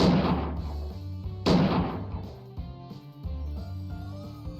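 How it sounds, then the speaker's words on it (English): Two heavy gunshots in the video game Cupid Parasite, each a sharp booming blast with a decaying tail, spaced about a second and a half apart over a musical tonal background. "He took out 6 with 2 gunshots."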